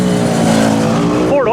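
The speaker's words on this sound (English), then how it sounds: "Another Focus rolling through." A Ford Focus race car rolls through the pits at Golden Sands Speedway before an Impact Survival Series race, its steady engine drone close and loud with faint tire noise, under nearby crowd chatter.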